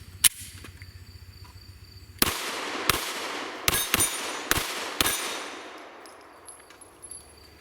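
Sharp Glock 43 pistol shots outdoors, one early crack then a series of six loud reports spaced under a second apart, each ringing with a clangy echo that fades after the last.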